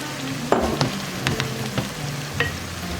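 Shrimp fra diavolo sauce of San Marzano tomatoes, julienned basil and oil sizzles steadily in a pan, with several sharp scraping stirs breaking through the close, continuous frying hiss.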